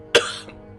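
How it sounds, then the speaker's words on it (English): One sudden, sharp cough bursts out close to the mic, followed by a brief softer rasp as it trails off. "I apologize for that random fit of coughing"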